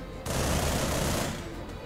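A sustained burst of rapid, booming cannon fire in the Project Nimbus video game, dense and loud for over a second before easing off, with no voices.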